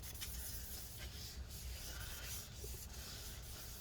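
A cloth rubs and wipes adhesive residue from the inside of an early 2015 13-inch Retina MacBook Pro A1502 during a battery replacement, giving a soft, close, continuous scrubbing with faint rhythmic strokes.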